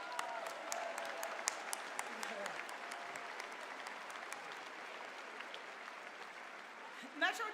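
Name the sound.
audience applause for steering committee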